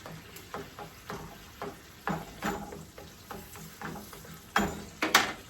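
Eggs cook in a pan for breakfast burritos, a soft sizzle punctuated by repeated quick scraping and tapping as they are chopped and stirred, with a few louder knocks toward the end.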